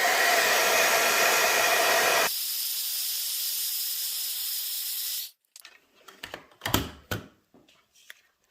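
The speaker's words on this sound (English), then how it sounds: "the powder is still sticking to the ink and needs to be heat embossed" A heat embossing tool blows a loud, steady hiss of hot air over embossing powder for about five seconds, its tone shifting once partway, then cuts off, leaving a few soft handling taps and rustles.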